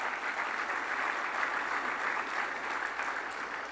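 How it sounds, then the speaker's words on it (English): At a construction equipment fleet awards ceremony, an audience gives finalists a round of applause, a steady, even clapping that carries through the whole stretch with no voices over it. "How about a round of applause for our finalists?"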